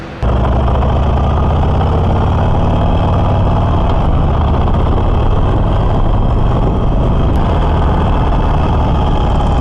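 A 2018 Harley-Davidson Iron 1200 Sportster engine rumbles loud and close during a ride, a continuous deep, throbbing drone with steady wind noise and no talking.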